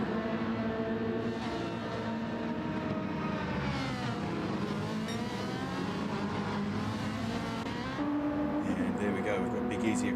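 GT3 race cars scream across the start-finish line at the Red Bull Ring in a racing video game, engines rising and falling in pitch as they pass, with commentary talking over the continuous engine noise.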